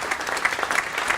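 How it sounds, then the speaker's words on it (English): Audience at a Rotary Club meeting applauding an award recipient, steady, dense clapping from a crowd, sustained and fairly near. "I hope you stand and applaud this young man"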